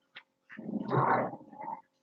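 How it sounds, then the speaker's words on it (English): Dogs playing give a short yip, then a long rough growling grumble with whiny rises, heard close and alone against silence. "I'm watching dogs play."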